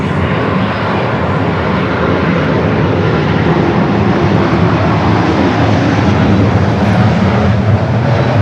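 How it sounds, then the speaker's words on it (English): A Japan Airlines Boeing Dreamliner arriving from Tokyo Narita at Los Angeles airport roars loudly and continuously overhead, a broad steady engine rush that fills the whole stretch, with no voices. "Japan Airlines, the Dreamliner coming in from Tokyo Narita"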